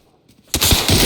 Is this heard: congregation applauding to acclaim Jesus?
no